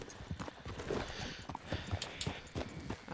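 Hooves of a horse clip-clopping in Red Dead Redemption 2, a steady run of soft, fairly faint hoof strikes with no talk over them.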